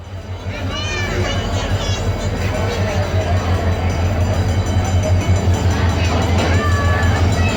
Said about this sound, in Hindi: सक्खर एक्सप्रेस कराची और जैकबाबाद के बीच चलने वाली एक रेगुलर ट्रेन सर्विस है